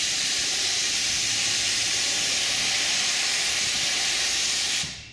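A 3M Accuspray plastic paint spray gun sprays in one loud, steady hiss lasting about five seconds before cutting off abruptly, with no talk.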